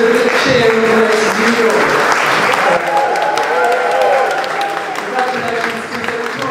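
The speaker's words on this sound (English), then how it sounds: "let us do a big cheer" An audience at a drawing prize exhibition launch and awards announcement applauds and cheers for a winner, sustained clapping with whoops and voices rising through the crowd.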